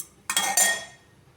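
Oil and ghee go into a pan set on the stove, heard as a brief close metallic clatter and spooned pour, two quick bursts then fading, with no voices.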